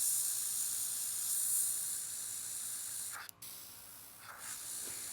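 Airbrush spraying paint during a nail art workshop, a steady close hiss running throughout with a brief dip and break in the spray partway through.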